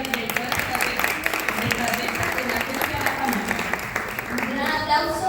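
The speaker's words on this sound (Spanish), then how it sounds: "Un gran aplauso." Applause for a speaker taking the stage at a communications week event, continuous clapping heard under loud talk and voices that run through the whole stretch.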